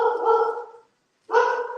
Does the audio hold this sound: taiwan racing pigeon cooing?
no